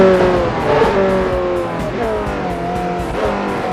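Ferrari 458 Italia drifting through a corner on a racing circuit in a Forza game, engine revving loudly and steadily with tires squealing throughout the slide.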